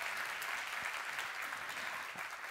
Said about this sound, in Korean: 다시 한번 박수로 환영해 주세요.